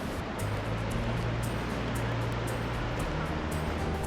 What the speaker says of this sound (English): Bow Falls, on the outskirts of the town of Banff, is one wide waterfall that spans the Bow River.